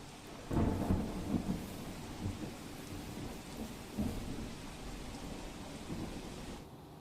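Steady heavy rain pours down over Mehsana, India, with a dense hiss, joined by deep rumbles of thunder near the start and midway.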